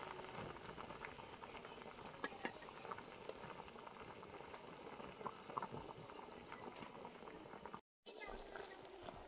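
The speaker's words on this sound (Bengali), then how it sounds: "এবার তরকারিটা ভালো করে ফুটিয়ে নেব" A curry of maan kochu and silver carp fish boils in a pot, giving a steady, soft bubbling with scattered pops that continues evenly, briefly cut off near the end.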